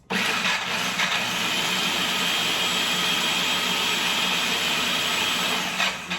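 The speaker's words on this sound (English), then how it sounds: "I'm going to first put on my food processor" A food processor whirs steadily at high speed while blending pesto ingredients for a creamy sauce, a loud, continuous motor drone that starts abruptly and runs unbroken for about six seconds before cutting off.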